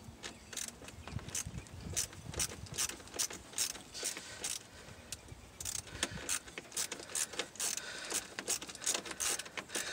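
Ratchet tightening a 10 mm battery terminal screw on a 2000 Toyota Tundra: repeated quick clicking strokes in an uneven rhythm, quiet and close, with no speech.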